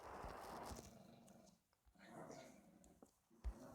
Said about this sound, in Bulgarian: И това куче, ако не спре да лае